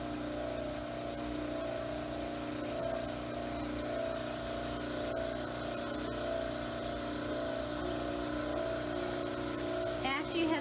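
A dental model trimmer runs with a continuous motor whine and abrasive grinding hum while trimming a plaster mandibular cast, steady and close, with a brief louder scrape near the end.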